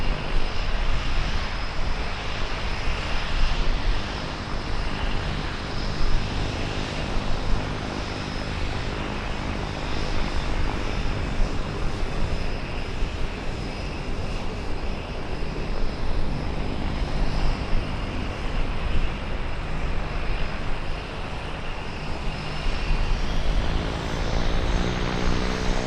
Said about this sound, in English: Boeing 787-9s, powered by the Rolls-Royce Trent 1000.